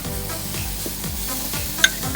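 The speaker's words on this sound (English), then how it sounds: "I'm gonna do my last glaze of the mojo on the chicken." Chicken sizzling in a pan as a mojo sauce glaze goes on, a steady bright crackle with faint rhythmic stirring or scraping and one sharp clink near the end.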